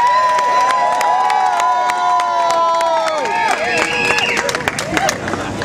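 A crowd at a rally for fair wages in New York clapping and cheering loudly, whoops and shouts rising over steady applause that swells toward the end.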